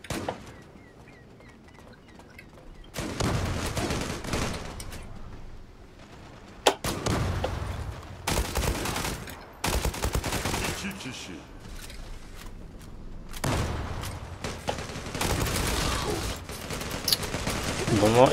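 Gunfire in a video game comes in dense, loud bursts of several seconds each, with short quieter gaps between them, and a voice talks over parts of the action.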